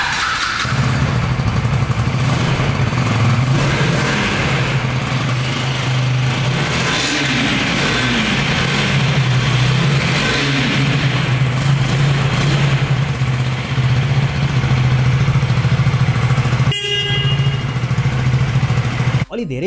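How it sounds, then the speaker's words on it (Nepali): A 2024 KTM Duke 250 with an underbelly exhaust idles and revs nearby, its low, steady exhaust note running throughout with a few rises in pitch and a brief sharp knock near the end, and a voice talks over it. "एक्जस्ट नोट चाहिँ यस्तो टाइपको छ यो बाइकको।"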